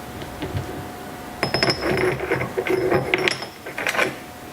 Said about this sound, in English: So what we've got with another piece of vital equipment is the hole punches here